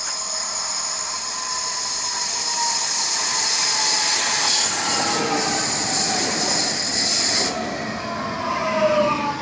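Intercity train pulling into Wodzisław Śląski Leszczyny station, its rolling wheels and carriages sounding loud and close, with a high squeal and hiss that fade out near the end.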